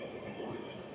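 Kanchanjunga Express, running from Sealdah to Sabroom, passes through Dankuni Junction without stopping, heard from on board as a low steady rumble of rolling coaches.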